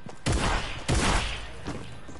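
Gunfire in the video game Fortnite, two heavy booming shotgun-like blasts about half a second apart followed by a fainter third, close and loud with no talk.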